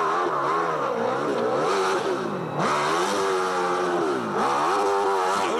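A nitro or alcohol-fueled drag racing motorcycle at a drag strip revs hard at very high RPM, the engine note sweeping up and down in repeated bursts with two brief dips, loud and close, with no talk.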